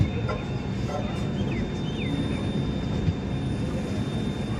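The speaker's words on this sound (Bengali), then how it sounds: "এখন আমাদের ট্রেন ঢুকছে বারেলি জাংশন, আর ট্রেন প্রায় 50 মিনিটস লেট।" A train rolling into Bareilly Junction makes a steady, close rumble of rolling wheels and carriage noise throughout, with a few faint high chirps above it.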